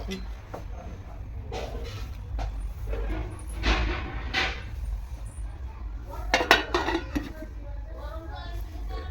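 A lid is set onto a pot of spinach and other vegetables simmering in a little water, with a few metallic clinks and scrapes of cookware under steady talk.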